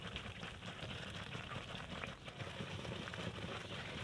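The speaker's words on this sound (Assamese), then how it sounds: "দেখিছেনে গাইছ কেনেকৈ উতলি আছে?" A covered pot of taro leaves and fish head bubbles on the stove, a faint, steady patter of simmering with soft popping throughout.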